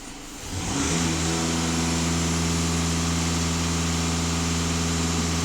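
Volkswagen Passat B8 engine under diagnostics after an EGR flush, rising quickly from idle to a steady held rev with a loud constant drone close by and no talking.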